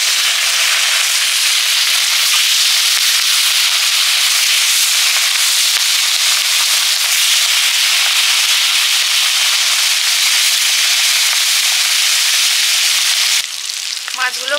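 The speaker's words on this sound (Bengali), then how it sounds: "মাছগুলো ভেজে নিচ্ছি" Fish fry in hot oil with a loud, close, continuous sizzle and fine crackle that runs steadily, then drops off abruptly near the end.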